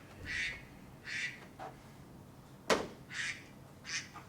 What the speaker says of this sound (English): Sorry, I let the duck